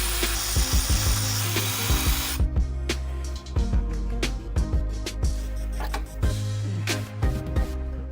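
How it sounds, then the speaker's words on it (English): Hand tools and a power tool at work removing the plastic fan from the fan clutch of a 2006 Toyota Sequoia, with repeated close clicks, scrapes and ratcheting bursts over a steady low hum, no talking. "Now we're going to remove the plastic fan from the fan clutch."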